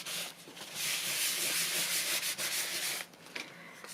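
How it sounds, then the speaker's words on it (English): Kitchen towel wiping excess glue off a craft piece makes a close, steady papery rubbing that runs for about three seconds, then stops and gives way to a couple of brief scuffs. "Let's grab a piece of kitchen towel and just wipe it."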